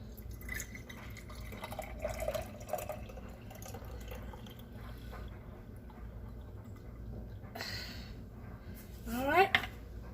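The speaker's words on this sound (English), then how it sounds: "I'm going to put the juice in one of my jars" Juice pours from a container into a jar, a soft trickling and dripping under low background noise, ending with a brief rising gurgle as the jar fills.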